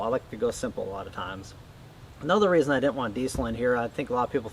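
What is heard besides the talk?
None of the usual background noises is heard.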